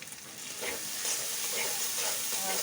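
Meat curry sizzling loudly in a pan while being stirred after garam masala is added, a dense continuous fry with rhythmic scraping strokes close up and no voices.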